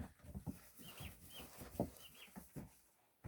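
Turkey and duck chicks in a shared brooder peep and chirp in soft, high, scattered calls, with faint rustling and a few low thumps close by in a quiet indoor space.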